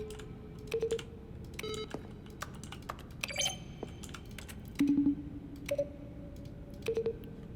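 Button presses in The Stanley Parable, each mixing a keyboard keystroke with a short synthesized tone, arrive as separate clicks and brief beeps at varying pitches, spaced irregularly in quiet surroundings.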